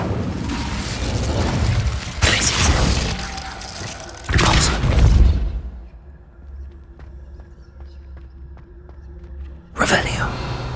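The Incendio fire spell cast in Hogwarts Legacy erupts in sharp, loud crackling bursts, three distinct blasts separated by quieter stretches of faint mechanical ticking, with talk present.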